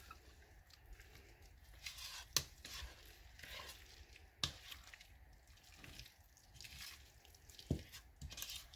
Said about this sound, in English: now we can mix our guacamole. So I take my mixing spoon.